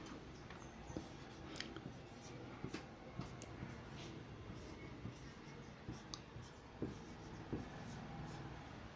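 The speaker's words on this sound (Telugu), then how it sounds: "దీన్ని యాజ్ ఇట్ ఈజ్ రాస్తున్నాను చూడండి" Faint pen strokes scratch across paper in short, scattered bursts, heard up close over a quiet background hiss.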